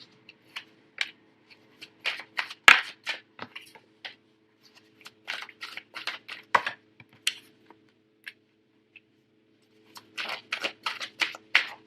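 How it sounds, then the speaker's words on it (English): Tarot cards are handled and laid out near a quiet background, sparse clusters of soft clicks, taps and papery flicks separated by pauses, with one sharper snap partway through and a low steady hum underneath. "I'm just going to overlay everything with another card."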